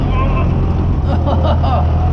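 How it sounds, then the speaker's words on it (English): A David Brown 996 tractor driving, its low engine rumble loud and continuous and heard from the seat, with a voice talking over it. "got my own little tractor"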